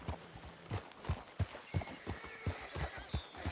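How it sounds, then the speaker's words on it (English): Horse hooves clip-clopping in the video game Red Dead Redemption 2, a steady walking rhythm of about a dozen close, distinct thuds with no talk. "That's a nice horse."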